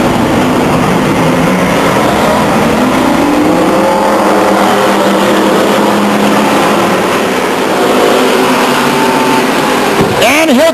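Race cars roaring past the grandstands at Stockton 99 Speedway during a 1999 race, a loud sustained engine drone with rising and falling pitch as cars pass, under a commentator's voice.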